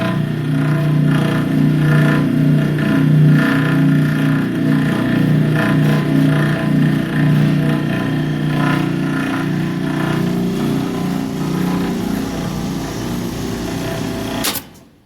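A Carrier AC package unit with a faulty motor runs with a loud, steady droning hum and fine rattling texture, heard up close and continuous until it cuts off abruptly near the end.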